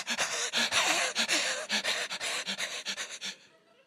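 A person imitates a small, white, fluffy dog panting, with rapid rhythmic breathy huffs repeated steadily for several seconds, close and loud, with no words, tapering off at the end.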